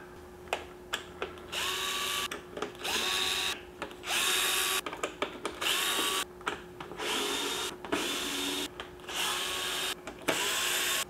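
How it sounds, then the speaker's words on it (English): A cordless power drill backing screws out of a Traxxas UDR RC car, repeated short whirring bursts that rise in pitch, separated by pauses and small clicks, close and clear. "I thought I could just remove these screws off the bottom too and just get the motor out"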